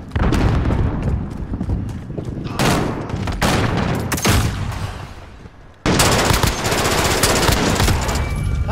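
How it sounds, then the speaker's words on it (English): A sniper light machine gun firing in a video game: dense, loud, sustained automatic bursts with booming low end, nearly continuous, briefly pausing before another heavy stream of shots. "how are you killing people with a sniper LMG?"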